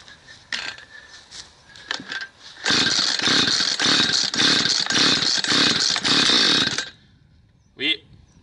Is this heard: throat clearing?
no